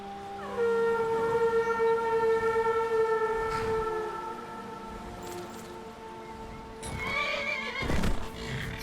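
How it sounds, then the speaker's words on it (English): Horses in the video game Skyrim whinny loudly with long, wavering neighs, then break into galloping hoofbeats, with a second burst of neighing and clattering hooves near the end. "let's call the horses"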